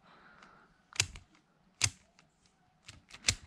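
A speed cube turned by hand to test corner cutting, giving four sharp plastic clicks and snaps at irregular spacing, close and fairly loud against a quiet background.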